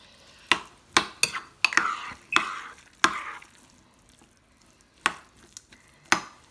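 Spoon stirring sweet corn into couscous in a bowl, a series of sharp scraping clinks and soft shuffles at an irregular pace, close and fairly quiet with no talk.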